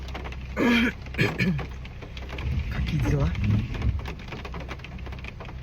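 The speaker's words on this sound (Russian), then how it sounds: "Мне сейчас нахлопал дождем от души просто." Heavy rain falls steadily in a hissing, even wash across the whole scene, with a brief louder burst near the start, while someone speaks over it.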